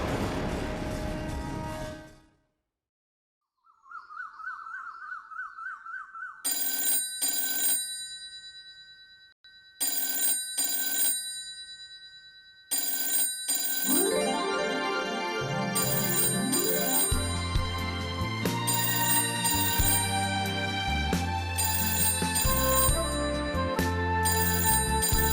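A telephone rings in repeated electronic bursts, then a melodic ringtone tune with a beat builds and plays continuously, loud and close with no voices.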